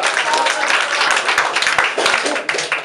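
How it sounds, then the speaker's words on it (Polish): An audience at a school blind-date show breaks into loud, dense applause, many hands clapping close and continuously for the whole few seconds. "Gromkie brawa dla serca."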